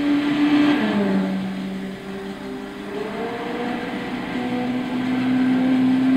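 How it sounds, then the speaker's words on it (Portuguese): In Gran Turismo 6, a 2004 Subaru Impreza WRX STi with a 2-litre 16-valve turbo boxer engine, front-mounted with all-wheel drive, drones under load on the High Road track, its pitch rising through the gears with brief dips at the shifts. "Sinta o ronco do boxer."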